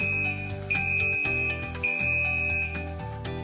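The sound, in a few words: alarm on a chemical dosing system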